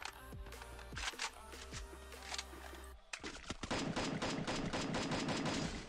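Rapid bursts of gunfire in the video game Free Fire, a few single shots followed by sustained automatic fire, loud and close.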